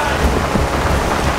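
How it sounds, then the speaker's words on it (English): Steady rain falls in a dense, loud, unbroken hiss with soft low thumps mixed in, heard alone without voices for a brief stretch. "It starts raining and the world stops."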